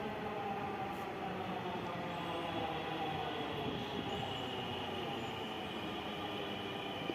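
A metro train in Dhaka, between Mirpur and Uttara, rumbles steadily as it pulls into the station, with a continuous rolling roar and faint wheel squeal, no talking.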